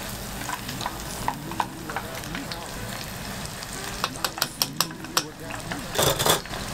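Beef cutlet deep-frying in hot oil around 170–180°C, a steady crackling sizzle with bursts of sharp pops and a louder surge of bubbling near the end, heard up close.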